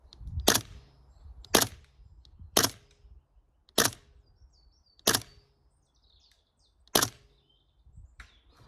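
A Maxx M4T airsoft rifle with an MWS hop-up firing 0.40 gram BBs at a range, six sharp single snapping shots spaced about a second apart, close and crisp over faint background noise.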